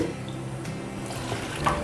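Water is poured into a pan of jaggery, one cup of water to one cup of jaggery, for moong dal payasam, making a steady, soft splashing trickle close by.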